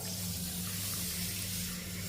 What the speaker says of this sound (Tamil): இதை நல்லா தண்ணி ஊற்றிக்கிடுவோம்.